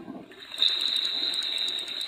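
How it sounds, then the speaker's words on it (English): A sloshing, flushing water effect from a flash video game, like someone peeing, runs steadily throughout with a bright hiss sustained over a low gurgle, fairly loud and uninterrupted, with no talking. "Every time you do that, it sounds like somebody's peeing."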